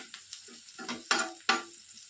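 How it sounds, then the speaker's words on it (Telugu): Finely sliced onion sizzles in hot oil in a pan for chilli chicken, a steady crackling fry with a few louder scraping stirs cutting through, close and fairly quiet. "దీన్ని వేసి బాగా లైట్గా దూరగా వేయించాలి."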